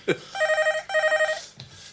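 An old landline telephone bell rings in two buzzy trilled bursts, loud and close, after a sharp shout, with a short voice sound following the second ring.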